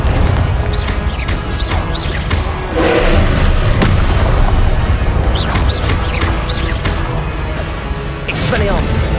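Confringo fire blast spell going off in Hogwarts Legacy battle, booming explosive bursts and crashes amid spell combat, with shouted voices over the din.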